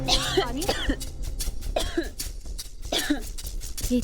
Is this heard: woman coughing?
yes